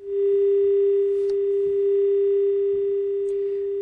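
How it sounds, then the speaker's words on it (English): A steady telephone dial tone hums after a phone connection fails, unbroken and even for several seconds, with faint clicks over it. "We'll get to Lacey as soon as we get that connection up and running."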